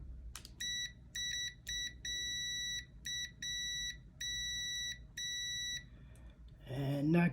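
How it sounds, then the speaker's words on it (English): Multimeter in continuity test mode giving a series of high electronic beeps, some short and some held longer in an irregular pattern, close and clear, followed by a brief rustle at the end. "Gonna test continuity mode, so it should beep."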